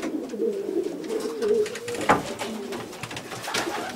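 Pigeons in a pigeon loft coo close by in soft, repeated rolling calls, with light rustling and a brief knock partway through.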